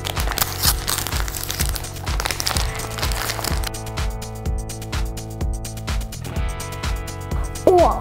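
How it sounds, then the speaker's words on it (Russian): Plastic wrapper crinkling and crackling as a small toy packet is torn open, close up, over a steady rhythmic music bed. "Открываем следующий пакетик."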